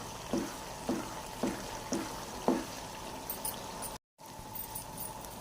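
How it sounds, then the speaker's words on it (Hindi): Makhandi halwa stirred and roasted over a low flame, with five soft, evenly spaced scraping strokes over a faint background hiss, then a quieter stretch with one brief dropout. "हल्की आंच पे हमने इसी तरह इसे भूनना है"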